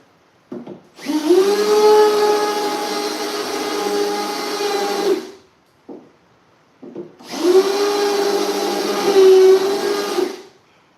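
An overheating power drill working on Chevy truck cab corners whirs loudly in two long bursts, each revving up with a rising whine and holding steady before cutting off, with brief clicks between.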